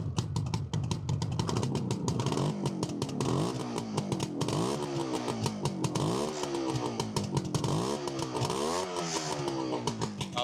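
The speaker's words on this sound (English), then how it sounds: "a nice burble from the exhaust" A motorcycle engine runs with a rough, burbling exhaust, rising and falling through repeated blips of revs over a steady throbbing idle, close and continuous with no talking.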